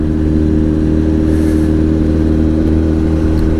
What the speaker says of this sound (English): welcome to another ride on the CBR Fireblade